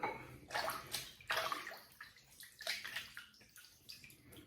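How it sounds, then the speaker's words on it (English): Water splashed by hand onto the face before a wet shave, repeated close splashes and sloshing in a basin, several bursts in a loose rhythm, fairly quiet. "So I'm gonna wet the face, we can get started."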